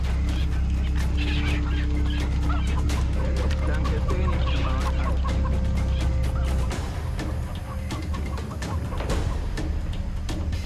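Rooster clucking in the video game Far Cry 3, repeated clucks and squawks over a steady low game ambience and rumbling background, with a brief voice in the mix.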